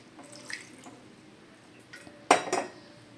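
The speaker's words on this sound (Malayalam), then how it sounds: "ഇതിലേക്ക് വെള്ളം ഒഴിച്ച് കൊടുക്കാം കേട്ടോ" A brief splash of water poured into a metal pan of soya chunk curry, with light clinks of cookware before it in a quiet kitchen.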